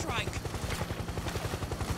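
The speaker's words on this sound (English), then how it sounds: "So the helicopters in this game are future copters, and the blades on them are really fat for some reason." Rapid rotor chopping from a futuristic fat-bladed helicopter in the video game Metal Gear Solid 4, a steady low thumping pulse that runs throughout with game sounds and a voice over it.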